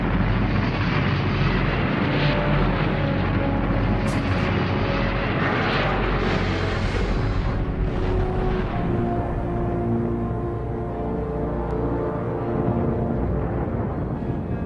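Rocket launch at ignition, a loud broad continuous roar with deep rumbling and crackling that fills the whole stretch without letup, no voices heard.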